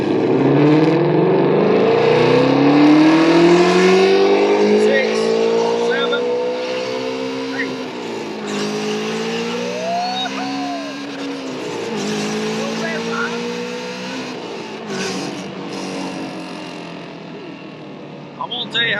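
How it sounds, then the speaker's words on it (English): Shelby GT350 Mustang with active exhaust deleted, heard from inside the cabin as it accelerates hard through the gears: a rising engine roar that climbs, drops at shifts and climbs again, loud and continuous. "I want to show you guys what a pull feels like inside the car"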